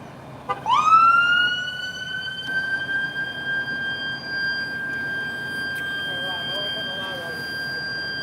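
Fire engine siren winds up from about half a second and then holds a steady, loud wail at a building fire on Cummins Highway in Boston's Roslindale community, with faint talk and street noise underneath.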